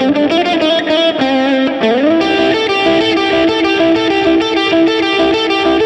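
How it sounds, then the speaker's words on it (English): Heavily distorted electric guitar rings out loud and continuous, sustained chords sliding into a held, buzzing tone for about six seconds, with no voices. "You're gonna need distortion."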